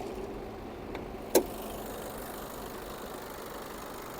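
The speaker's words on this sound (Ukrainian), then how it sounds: "Моторчик працює гарненько" A 2019 Volkswagen Passat B8 Highline idles with a quiet, even engine hum, broken once by a single sharp click, with no talking.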